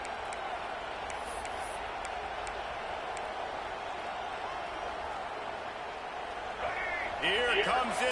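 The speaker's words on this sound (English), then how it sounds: "Here comes this home crowd as the defense tries to get off the field on third down" A home crowd at a college football game, FSU against Michigan, roars steadily in a packed stadium on a third down, the sustained din swelling louder near the end as a commentator talks over it.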